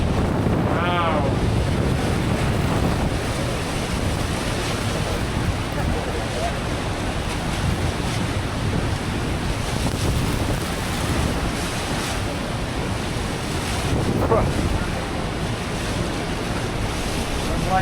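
Niagara Falls roars up close as a heavy, unbroken wash of falling water, mixed with gusting wind buffeting the microphone.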